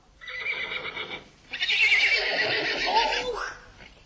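A horse whinnies loudly and close, first a shorter call and then a longer, wavering neigh that falls away at the end.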